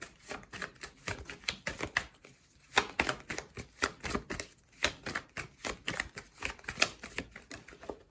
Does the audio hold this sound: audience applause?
no